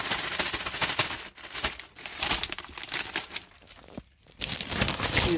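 Mail packages opened one-handed after being cut, a steady run of close plastic and paper crinkling and rustling with a few brief pauses, no talking over it.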